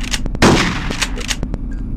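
A shotgun fires at a shooting range in Hitman: Codename 47, one loud sharp blast followed by several quicker, lighter impact clicks.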